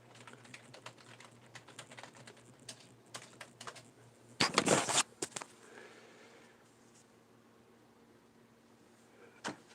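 Quick bursts of typing on a computer keyboard, soft clustered key clicks over a steady low hum, with a louder flurry of keystrokes midway and scattered single taps near and close by.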